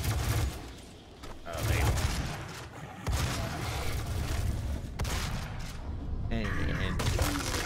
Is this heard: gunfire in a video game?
yes